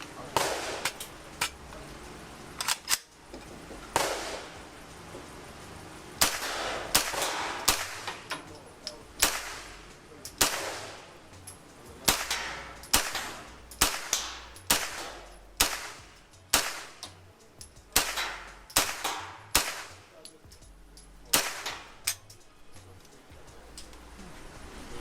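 A Century Arms WASR M 9mm AK-pattern rifle fires a long string of sharp, loud single shots at an uneven pace, each crack followed by a brief decay, with occasional speech in the background.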